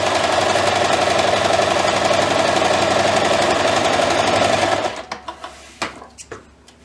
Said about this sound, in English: So I just sewed around the outside.